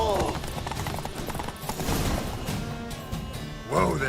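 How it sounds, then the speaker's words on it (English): In the video game The Witcher 3, a horse's hooves clop in a quick rhythm amid busy game sounds with talk over them, and a brief whinny rises near the end. "Whoa there, Roach"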